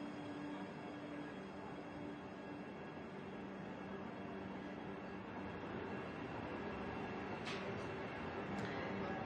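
A Vande Bharat Express train runs in Madhya Pradesh with a steady, faint rolling rumble. Two brief high clicks or squeals come near the end, and no one speaks.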